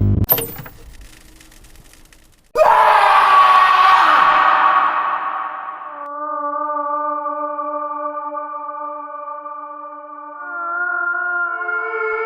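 A man's drawn-out scream as a horror sound effect, a loud wavering cry that starts abruptly after a brief noisy opening, then fades into sustained eerie tonal drones that linger to the end.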